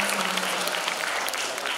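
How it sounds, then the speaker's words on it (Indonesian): Steady, dense applause from an audience at a university general lecture event, loud and continuous, with a faint hum beneath it. "Tepuk tangan buat pejuang-pejuang ini."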